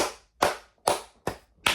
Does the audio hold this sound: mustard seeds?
no